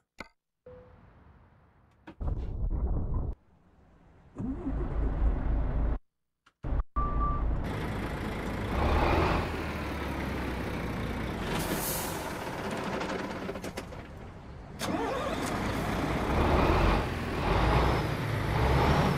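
Truck fitted with a minimal 340 engine in a trucking video game, heard after gaps and air-brake hisses as a steady, fairly loud drone with occasional surges and a short electronic beep.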